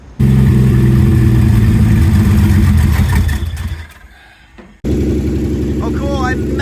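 A turbocharged engine on an Aces Killshot Classic build runs at a loud, rough idle, drops off briefly and then picks back up, with a voice speaking over it.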